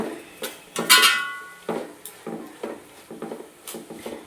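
A metal spoon scraping and clanking in a pot while biryani curry is stirred and mixed, a steady run of close, irregular knocks and scrapes with a brief ringing clang near the start.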